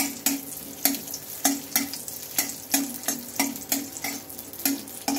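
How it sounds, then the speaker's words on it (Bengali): Cashews and raisins fry in oil while a utensil stirs them, making a loud, steady sizzle broken by regular scraping strokes about twice a second, with no voices. "কাজু কিশমিশটা আমি তেলের উপরে দিয়ে নিলাম,"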